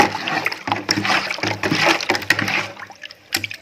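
Blue vitriol dropped into a bucket holding two litres of water sets off a few close sloshes and splashes, with quieter watery trickles between them.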